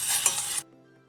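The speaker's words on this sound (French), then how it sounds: "et vous mélangez régulièrement" Vegan chocolate mixture with vanilla being stirred in a saucepan, a brief close scraping swirl that stops abruptly after about half a second, leaving a faint quiet tail.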